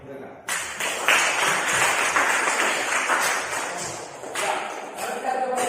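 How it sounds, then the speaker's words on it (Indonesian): A classroom of students breaks into steady, fairly loud applause for classmates, with dense clapping that runs for several seconds and thins slightly toward the end. "Kita beri aplaus untuk mereka"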